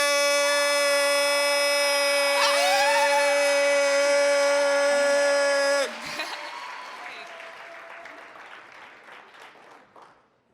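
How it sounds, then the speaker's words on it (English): A loud, steady electronic tone with harmonic buzz holds for several seconds, then cuts off into a fading wash of crowd applause and cheering for a youth host at the Umoja 53 event. "give the biggest round of applause for our youth host, Flo Sherman"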